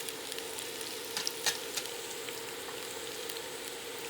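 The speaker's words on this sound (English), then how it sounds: "our oil is shimmering, so I'm gonna add 1 medium chopped onion" Chopped onion, celery and carrots sizzle in hot olive oil with a steady, quiet frying hiss and a few faint pops and clicks.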